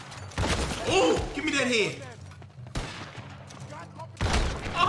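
Gunfire in Red Dead Redemption 2, loud sharp shots and crashes in clusters with gaps between them, mixed with shouting and a voice speaking.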